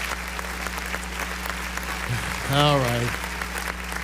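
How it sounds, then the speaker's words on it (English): Studio audience applause for a morning TV show host, a steady wash of clapping throughout, with someone briefly speaking over it near the end. "Just for getting through that, I get applause."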